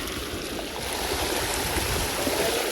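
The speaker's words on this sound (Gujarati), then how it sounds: "અહીંયા તો પાણી ચાલુ હોય ને જો પાણી તમને બતાવું ખાલી કેટલું આવે છે" Running water gushes in a steady, loud broadband rush, continuous and close with no pauses or voices.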